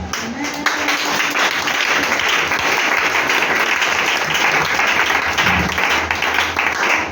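A church congregation applauds loudly and continuously in acclamation, a dense wall of clapping with some voices mixed in throughout.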